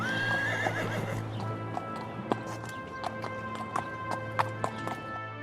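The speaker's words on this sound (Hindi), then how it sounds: "भोर होते ही राजा अपने घोड़े पर बैठकर तुरंत साधु बाबा के पास जाने के लिए निकल" A king's horse whinnies, then clip-clops off at a quick trot or gallop. Sharp, evenly paced hoofbeats ring out at moderate distance over a steady low background hum.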